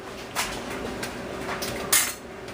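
Bowls and a big pot are handled in a kitchen during cranberry canning, giving a few bright clinks and clanks at irregular moments over a low background hiss, with no talk.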